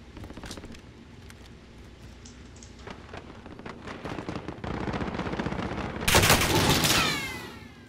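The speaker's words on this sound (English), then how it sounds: "I'm getting shot at." Sustained automatic gunfire aimed at the player in Call of Duty: Modern Warfare, steady bursts building to a loud, close volley near the end, with no talk over it.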